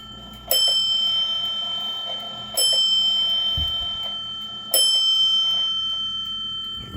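A Dutch WUBA Sallander 8-day wall clock from around the 1960s or 70s strikes the hour with three loud, close ringing chimes about two seconds apart. Each chime decays slowly, and no one talks.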